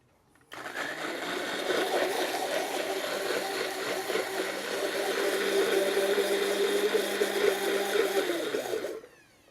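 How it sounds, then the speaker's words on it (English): A blender puréeing lime juice for salsa runs in one continuous burst of about eight seconds, a loud buzzing motor whir with a churning texture that starts and stops abruptly. "I'm going to go ahead and puree this"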